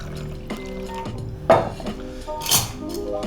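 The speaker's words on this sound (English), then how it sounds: "Give it a little stir." A spoon stirring a drink in a glass, with a few bright clinks of metal against glass over a soft swirl of liquid and ice, close by and alone.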